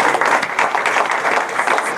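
Audience applause after a talk, a dense steady wash of many hands clapping at once that fills the whole moment without a break, with no voices heard over it.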